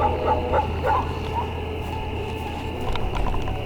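A dog barks in short, sharp yips near the start, then quiets under a steady outdoor hum before a couple of fainter barks return near the end.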